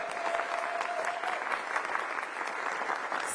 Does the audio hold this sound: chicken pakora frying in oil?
no